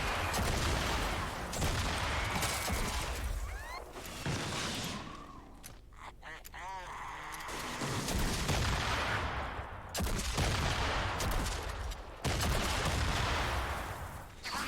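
Vindertech Disintegrator, a launcher-shotgun hybrid weapon in Fortnite Save the World, fires in repeated loud, crackling blasts with heavy low rumble, easing into a quieter stretch midway before the heavy bursts resume.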